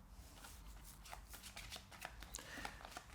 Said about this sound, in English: And then shuffle again.